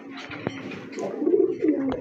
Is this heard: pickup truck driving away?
no